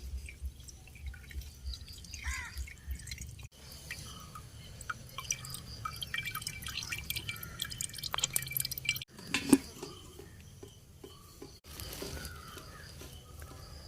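Liquid drips and squishes from a pressed fish amino acid mixture: faint, close, intermittent wet drops and trickles with short pauses between them.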